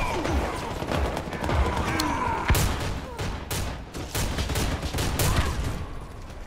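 Sustained rapid gunfire and scattered shots crackle continuously, dense and loud in a Warface firefight, with a few heavier thumps.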